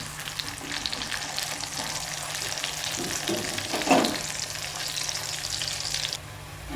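Chopped small onions fry in hot oil for a ginger curry, giving a steady, close, continuous sizzle with a brief swell of stirring midway and no talking.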